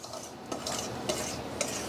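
A whisk stirs seasonings into a bowl of flour, with soft scraping swishes and a few light metallic taps against the bowl, quiet and close with no talking.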